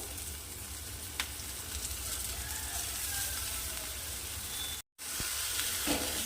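Chivai leaves and besan vegetable sautéing in a pan with a steady, close sizzle and hiss throughout, with a few faint clicks and a brief dropout near the end.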